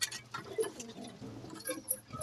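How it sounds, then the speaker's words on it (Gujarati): Black and golden Jiriya pigeons coo softly and repeatedly at close range. The low calls are fairly quiet, with light rustling and faint chirps around them and no speech. "આ બ્લેક જીરિયા, આ ગોલ્ડન જીરિયા."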